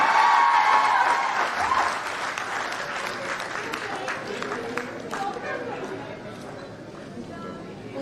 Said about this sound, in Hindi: आप स्टूडेंट्स की तरफ से जोरदार तालियां होनी चाहिए।